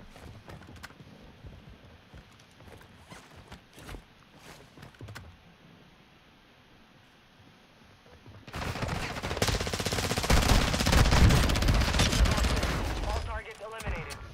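Rapid automatic gunfire in a video game, loud and sustained in a dense burst during the second half, after quieter footsteps and scattered clatter at the start.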